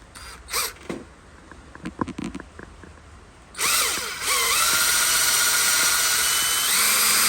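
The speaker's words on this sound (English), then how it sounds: "I'll drill a couple of holes" A power drill bores mounting holes for a tach/hour meter on a DR600 motorcycle. A few quiet handling clicks and taps come first, then the drill whines loudly and steadily, rising in pitch as it spins up, and keeps running to the end.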